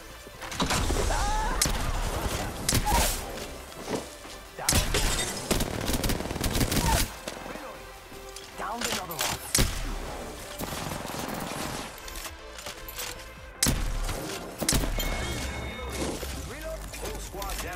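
Gunfire in the Apex Legends battle royale game comes as loud, dense bursts of automatic shots, impacts and crashes that are nearly continuous, with brief gaps and a voice talking in places.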